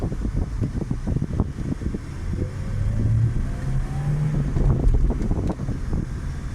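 A 2005 Toyota Corolla XLi with a pickup, plug and fuel fault, driven with its engine rising and falling through acceleration, heard from inside the cabin with steady road rumble and wind buffeting.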